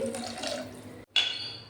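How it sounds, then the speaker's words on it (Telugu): Half a glass of water is poured over chana dal with salt, ginger-coriander paste, coriander powder and coconut for a masala curry, making a short, close splash that breaks briefly and then resumes. "1/2 గ్లాస్ వాటర్ పోసుకొని"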